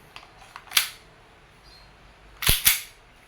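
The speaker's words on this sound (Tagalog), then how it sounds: "Shooting test tayo ng inyong unit D1911 MEU by WE made in Taiwan." Two sharp snapping shots from a WE airsoft 1911 MEU pistol, Taiwan-made, one alone and then a quick pair about a second and a half later, crisp and close against a quiet room.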